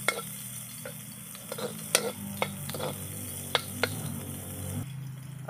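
Garlic and chopped onion sizzle in oil in a pan with a soft steady frying hiss, broken by several sharp clicks and scrapes of a utensil stirring against the pan.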